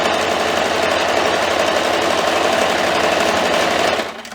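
A sewing machine runs steadily while stitching a stripe on fabric, a close, continuous rapid whirring hum that stops abruptly near the end.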